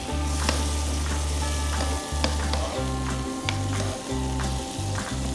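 Bonito rolls with capers and olives cook in a frying pan, giving a loud, steady sizzle that runs without a break, with a low hum underneath and a few faint clicks.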